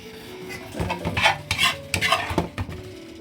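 A spoon stirs palabok sauce in a pan, giving a series of close scraping and clinking strokes against the metal in an uneven rhythm, with a soft bubbling sizzle underneath and no talking.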